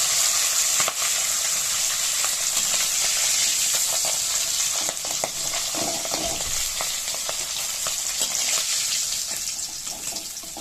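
Fish pieces frying in oil crackle and hiss steadily, with scattered sharp pops and a few dull stirring knocks toward the middle before the sizzle eases slightly near the end.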